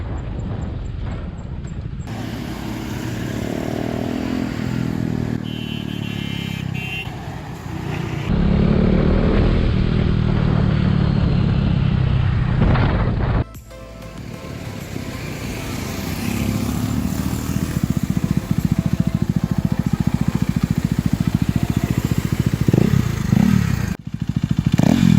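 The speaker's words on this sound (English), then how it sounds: "this exhaust gives you mad power, and with sound you can get more feel of it." KTM RC 390 sport motorcycle fitted with a loud aftermarket exhaust, revving hard with rising and falling engine notes and sharp blips, close and loud throughout with no talking.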